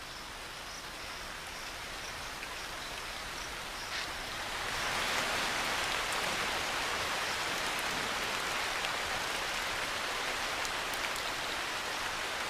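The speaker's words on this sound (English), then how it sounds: "At daybreak, the rain resumes." Rain falls steadily in the Indian wild at daybreak, a continuous hiss of drops on surfaces that swells heavier partway through and keeps going evenly, with no voices.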